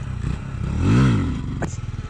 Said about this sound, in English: Wheelie practice.